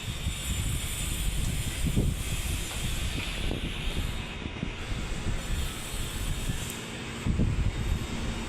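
An outdoor unit of a Dunham-Bush VRF air-conditioning system running at a school building project, giving a loud, dense, continuous hiss and roar with a few faint knocks, steady throughout.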